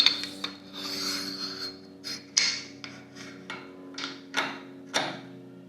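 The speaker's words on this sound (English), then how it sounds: "I just put it on the belt sander there for a second" A belt sander grinds a metal part for a chopper build in short repeated passes, each rough rasp swelling and fading over a steady motor whine, close and moderately loud with no talk.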